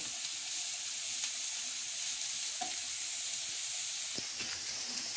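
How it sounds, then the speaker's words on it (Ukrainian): Carrots and onions sauté in an uncovered pan, a soft steady sizzle with a few light scraping turns of the vegetables, fairly quiet and unaccompanied by speech. "Морква трохи притомилася, ось я її перегортаю."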